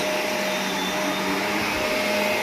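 A vacuum cleaner runs steadily and loudly nearby, a constant whining motor hum with no pauses and no voices.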